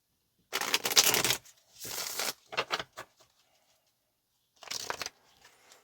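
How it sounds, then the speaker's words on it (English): Tarot cards being shuffled close up in three separate bursts of crisp riffling with pauses between, no talking. "let's get just a couple of more shuffles."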